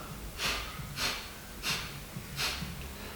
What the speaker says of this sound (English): Full inhale. 4 sharp exhales.